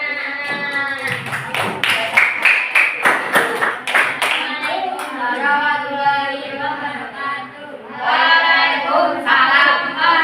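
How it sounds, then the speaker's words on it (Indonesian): Children in a classroom break into applause, bursts of rapid clapping at first, then a teacher's voice and more scattered clapping alongside chatter. "Oke, tepuk tangan anak-anak."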